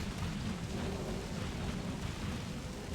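Thunderstorm and frog rain in the game Don't Starve Together: steady, loud rain hiss with deep rumbling thunder throughout, no voices.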